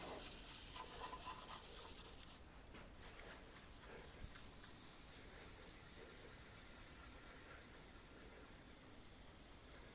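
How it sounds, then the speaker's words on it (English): Turquoise paint is rubbed down on an artwork, giving a faint, steady, continuous scrubbing hiss that runs without a break from start to finish. "And just rub it all down real good."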